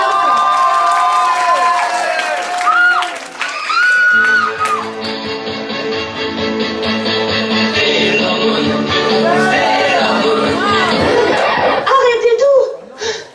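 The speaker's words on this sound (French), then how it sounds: "On l'applaudit bien." An audience at a cosplay parade at a Japanese culture convention claps, cheers and laughs for a Sailor Moon cosplayer, with the crowd noise running under loud music and voices.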